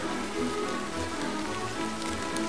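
Steady rain patters on a surface, a dense continuous hiss of drops close by with faint low rumble beneath.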